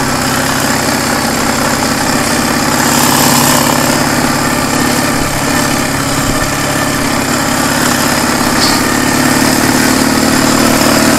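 A car engine idles with its throttle fixed in frosty weather, a loud, steady low rumble with constant vibration, close by and uninterrupted, with no talk over it.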